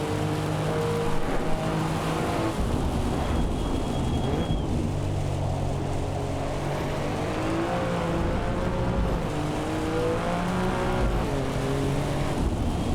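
A race car engine in Assetto Corsa EVO revs hard and steadily through the gears, its pitch climbing and dropping as it is pushed, with a constant loud drone and no talking over it.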